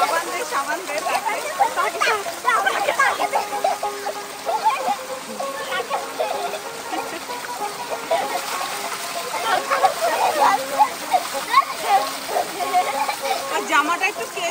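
Water splashes and sloshes continuously as a doll is bathed outdoors in a field, with a voice talking over the watery churning throughout.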